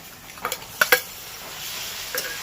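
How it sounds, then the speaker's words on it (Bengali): Ground spinach and radish greens fry in a pan as a shrimp and onion paste is added, with a soft sizzle under a few sharp utensil clinks and scrapes. "শাকটাকে একটু ভেজে নিয়ে এবারে এর মধ্যে দিয়ে দেবো চিংড়ি পেঁয়াজ সব বাটাটা"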